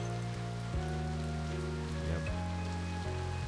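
Rain patters on an umbrella in a visual novel game, a steady soft hiss of drops running beneath sustained background music tones.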